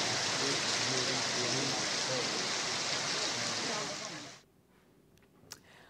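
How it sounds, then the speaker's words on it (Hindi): Heavy monsoon rain pours down in Pratapgarh, Rajasthan, a dense, steady hiss that holds for about four seconds and then drops away abruptly to near quiet. "प्रतापगढ़ शहर समेत जिले भर में बारिश का दौर जारी है"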